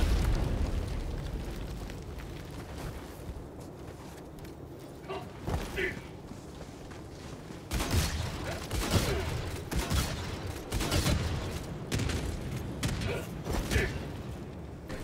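Explosions in the shooter game Helldivers come as a string of booming blasts and crackling bursts, with louder clusters in the second half, while players talk over voice chat.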